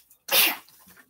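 A single sharp, close sneeze bursts out after a moment of quiet and is followed by a brief breathy tail.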